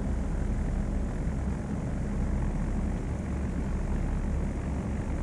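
Steady, loud drone of a propeller aircraft engine at low power as the plane taxis and turns on the runway at Kahului in Flight Sim World, continuous and unbroken.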